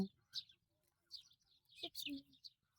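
Faint, scattered bird chirps on a farm, a few short high tweets in the distance, with quiet gaps between them.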